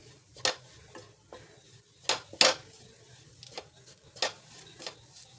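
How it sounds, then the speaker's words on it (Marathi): Grated fresh coconut being stir-fried in a pan, quiet and mostly dry, with a handful of distinct spatula scrapes and light clinks against the pan at irregular moments over a faint low sizzle, no voices. "दोन तीन मिनिट परतून घ्यायचे"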